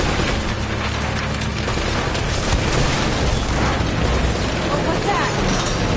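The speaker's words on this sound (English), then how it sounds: "Rocket launcher!" Rocket launcher blasts in Uncharted: Drake's Fortune Remastered land as a continuous roar of booming explosions and rumbling debris, dense and loud.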